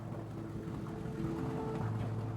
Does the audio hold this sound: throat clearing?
no